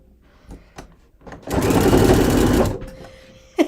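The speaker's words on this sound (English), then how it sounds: "Now I'm just gonna quickly stitch up the side seams, 1/2 inch." Sewing machine stitching the side seams of a garment at half-inch allowance, a close, loud steady whir lasting over a second, with a few faint clicks and handling taps before and a short knock after.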